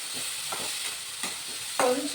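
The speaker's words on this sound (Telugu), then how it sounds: "ఇలా తాలింపు వేసేసుకొని" Curry-leaf tempering for a banana stem fry sizzles in hot oil with steady crackling and a few sharper spits, louder near the end, with no talking.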